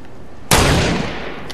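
A single sharp sniper rifle shot rings out in a video game, with a loud sudden crack followed by a decaying tail over about half a second.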